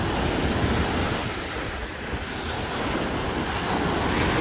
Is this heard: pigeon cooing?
no